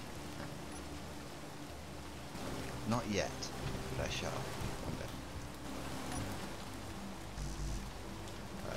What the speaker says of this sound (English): Can't control the rain.